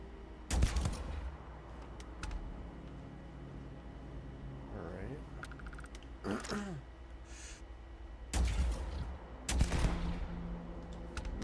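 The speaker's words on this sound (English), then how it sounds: "Missed with the first, got him with the second" Sharp gunshots crack in a video game, two loud reports at the start and two more near the end, with quieter background noise and a short breathy vocal sound in between.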